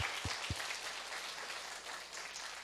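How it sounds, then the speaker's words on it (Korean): A church congregation claps for a young drummer during a Sunday service, a steady wash of applause filling the room from start to finish, with no talk over it. "박수 쳐줘봐."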